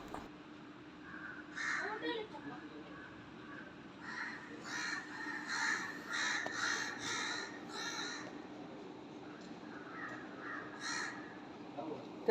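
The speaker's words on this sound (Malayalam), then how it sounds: "രാവിലെ കാക്കയുടെ സൗണ്ട് കേൾക്കാൻ തന്നെ ഒരു അതാ ഞാൻ ഈ വീഡിയോ പിടിക്കുന്നത്" Several crows caw repeatedly in the morning around a house, in bursts of harsh calls at moderate distance, some overlapping, with quiet background hum and faint voices.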